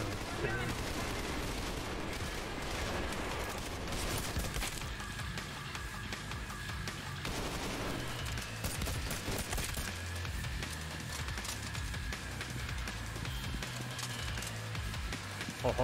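Video game gunfire, dense overlapping rifle and machine-gun bursts, loud and continuous with sharp cracks against a steady battle din for the whole stretch.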